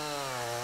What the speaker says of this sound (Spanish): el carpintero opta por continuar con la motosierra trazando unos cortes paralelos hasta dejar unas láminas estrechas de madera